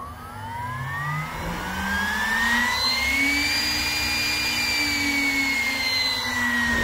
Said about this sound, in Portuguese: o liga e desliga do spindle por aqui